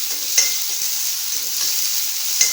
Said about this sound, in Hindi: सबसे पहले जीरा डाल देंगे, फिर प्याज डाल देंगे, थोड़ा सा रोस्ट करेंगे।